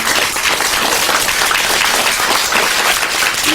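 Church congregation on its feet clapping loudly and continuously, a dense, even roar of many hands filling the room without speech.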